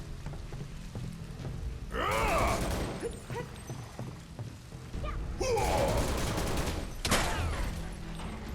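Barret's gun arm firing in Final Fantasy 7 Remake: two loud bursts of rapid gunfire with whooshing game effects, a sharp single shot near the end, and lower battle noise between the bursts.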